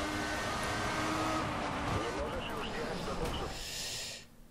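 Race cars in the F1 2014 video game at the Italian Grand Prix rush past in a dense, continuous engine roar that fades sharply at the end as the cars pull away.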